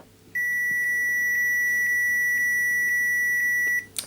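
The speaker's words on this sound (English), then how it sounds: "And we should hear a beep." A multimeter on continuity test across an LED string from a TV backlight gives one steady, high-pitched beep lasting about three and a half seconds, clear and alone over quiet room hum.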